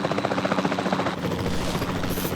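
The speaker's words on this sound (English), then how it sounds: "Then the sensible thing is to take a capture team helicopter." A capture team helicopter in the video game Jurassic World Evolution 2 keeps up a steady, loud rotor thrum with engine whine, continuous and close throughout.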